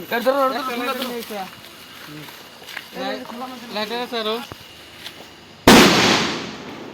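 At a wedding, a single loud firecracker bang bursts out near the end and rings off in a decaying crackle, after several seconds of people talking nearby.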